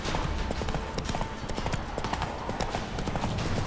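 Geralt's horse Roach trotting in The Witcher 3, hooves clip-clopping in a steady fast rhythm under dense outdoor game ambience.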